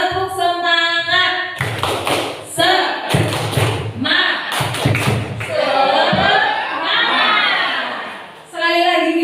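A group of Indonesian teachers and staff claps together in a rhythmic 'tepuk semangat' spirit-clap pattern, several bursts of loud patterned clapping and thumping separated by talk, with a lively crowd atmosphere.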